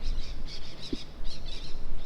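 Faint, repeated high chirps from birds at a distance during a hot Australian summer, coming in short clusters over a steady outdoor hiss.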